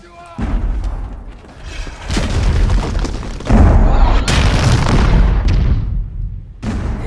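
Repeated cannon fire in a pirate movie sea battle: several loud, deep booms land in irregular succession, each followed by rolling rumble and debris noise, with no clear pauses between blasts.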